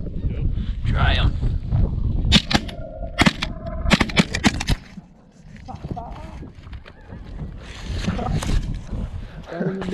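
Shotguns fire at flying snow geese during pass shooting outdoors. Several sharp, loud reports come in a quick cluster, with wind noise and people talking before and after.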